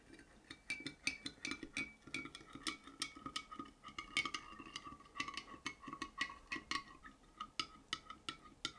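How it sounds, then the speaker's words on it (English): A spoon stirs salt into water in a glass, giving steady rapid clinks and taps against the glass throughout, close and moderately loud with no talking. "And then I'm going to stir it"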